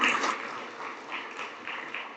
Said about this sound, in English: a huge round of applause for everyone who have made it